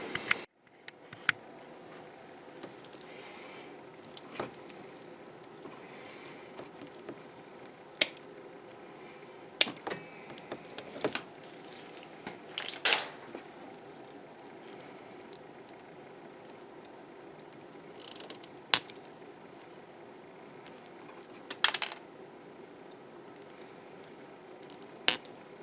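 Wiring for a 22-inch Mictuning LED light bar on a Kawasaki Brute Force ATV being cut, heard as a series of sharp isolated snips and clicks spread over quiet background, with no talking.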